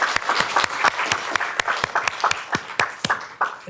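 Audience applause closing an academic process systems engineering conference session, a thinning patter of distinct claps from a modest crowd, individual hand strikes clearly spaced and fairly close.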